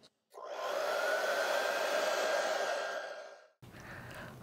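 A handheld hair dryer blows steadily and close for about three seconds while acrylic paint is being dried, starting abruptly and cutting off sharply, then followed by faint room noise.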